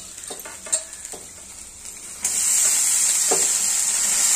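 Potatoes tossed into hot spiced oil for a batata bhaji, with a few stirring clicks at first and then a steady loud sizzle and hiss that swells and holds as they fry.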